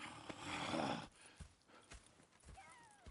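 Horses in the video game Red Dead Redemption 2: a noisy rustling burst gives way to close, distinct hoof clops at an uneven pace, with a short whinny near the end.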